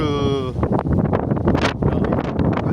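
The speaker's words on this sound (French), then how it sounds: "Alors justement il y a le vent qui se lève" Strong outdoor wind buffets the microphone before a storm, a loud, continuous rushing roar with gusty surges; a voice is heard briefly at the start.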